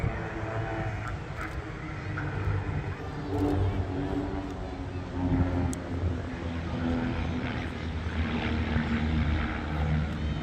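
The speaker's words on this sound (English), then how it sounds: "It's a super little aircraft. Vans family and tandem seat design." A small Vans propeller plane with tandem seating flies at the Wales Air Show in Swansea, its steady engine drone carrying on throughout, with a commentator speaking over it on the public address.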